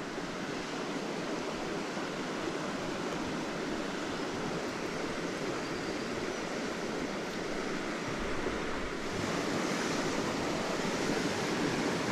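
Steady cold wind rushes outdoors on a clear evening, a broad, continuous roar that stays loud and even throughout, with no voices.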